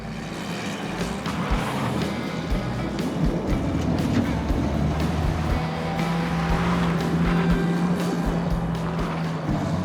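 A 2.3-liter Ford Pinto engine in a video game accelerates hard, a steady loud drone with rising tone over rushing noise, holding for several seconds.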